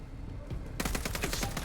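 Rapid gunfire in Vampire: The Masquerade – Bloodlines 2: a quiet lead-in, then a dense burst of close, repeated shots for about a second.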